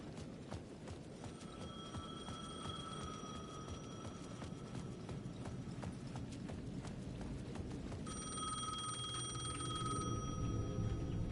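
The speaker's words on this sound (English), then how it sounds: "The payphone at the edge of the plaza was ringing again." A payphone at the edge of a plaza in the game Alan Wake rings in two bursts of tinny, steady bell tones, moderately distant over a constant, noisy ambient hum.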